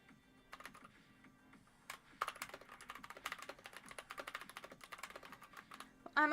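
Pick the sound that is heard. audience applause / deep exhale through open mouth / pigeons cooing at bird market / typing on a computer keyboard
typing on a computer keyboard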